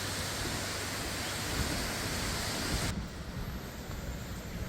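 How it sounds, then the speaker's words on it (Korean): An artificial waterfall in a canyon at Zhangjiajie sends out a steady, dense rush of falling water that fills the air without pause and eases slightly partway through. "인공 폭포 물소리를 들으며 대협곡 자락길을 따라갑니다."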